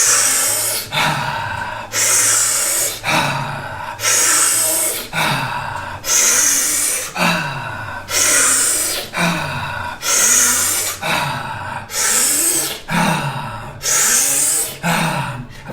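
Slow cyclic breathing during a guided breathwork session, with about eleven loud, full inhales each followed by a relaxed release, in a steady repeating rhythm with no talking.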